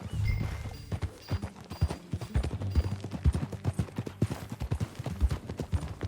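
Horses ridden at a steady pace in the video game Red Dead Redemption 2, with close, rhythmic clip-clop hoofbeats throughout and no talk.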